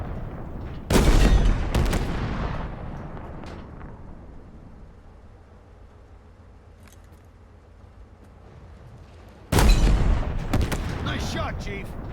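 Gunfire in the video game Halo Infinite comes as two loud, sharp bursts, one near the start and another near the end, with a quieter low ambient rumble between them.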